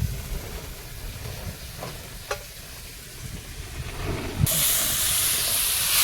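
Large river prawns fry in a pan with chillies, pumpkin, bitter gourd, eggplant and sweet potato, a steady close sizzle with a couple of utensil clinks before a louder, hissing surge of steam near the end.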